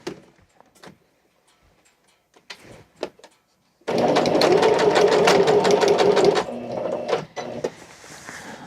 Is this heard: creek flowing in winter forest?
no